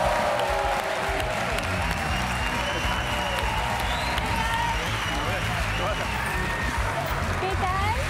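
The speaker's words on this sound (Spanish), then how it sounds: "Un aplauso para ella." Studio audience of a Spanish late-night talk show applauds a guest, steady loud clapping with some cheering and crowd murmur throughout.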